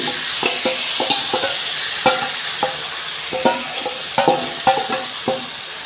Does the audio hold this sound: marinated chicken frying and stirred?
yes